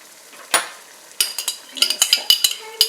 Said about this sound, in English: We're just going to pour that in.